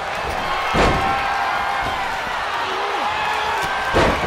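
Forearm strikes land in the WWE 2K24 wrestling video game, a few dull thudding impacts spread out over several seconds under a steady arena crowd roar and commentary.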